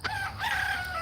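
A single rooster crow rings out, loud and close, a drawn-out call with rising and falling pitch.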